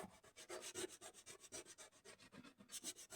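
Hand sanding on the sheet-metal body panel of a Peugeot 205, a close, steady rhythm of rough back-and-forth rubbing strokes, roughly four per second, with no voices.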